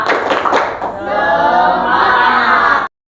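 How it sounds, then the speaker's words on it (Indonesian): A classroom of students performs a rhythmic clapping chant as a motivational cheer, with a few sharp claps at the start followed by loud group chanting voices that hold steady until stopping abruptly. "tepuk semangat"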